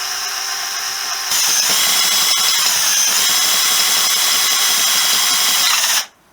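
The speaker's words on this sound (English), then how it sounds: "this is a brand new drill bit as well." Power drill with a new 6.5 mm bit boring through thin sheet metal from a Honda CB125S guard or fender, a steady high whine that jumps louder as the bit bites, then cuts off abruptly at the end.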